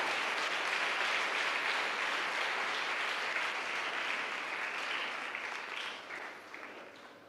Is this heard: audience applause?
yes